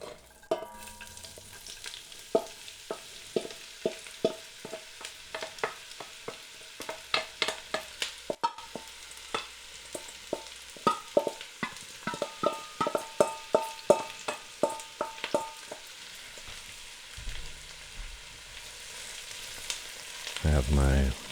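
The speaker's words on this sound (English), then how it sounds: "Okay, our olive oil is getting hot, so let's add our leeks and onion." Leeks and onion sauté in hot olive oil, a wooden spoon stirring them through the pan; steady close sizzle with many crisp scraping strokes and clatters in a busy rhythm, ending in a louder rumble.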